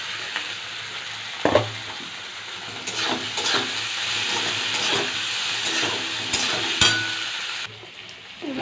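Pre-fried egg tipped into a pan of sizzling spices, including Kashmiri chili powder, for tadka dal; a steady frying hiss with stirring scrapes and a sharp clatter as it goes in, fairly close.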